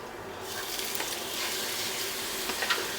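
Pork sizzles in hot cooking oil in a pot over medium heat, a steady close crackling hiss that swells as the meat goes in, with occasional small pops and stirring sounds and no talk.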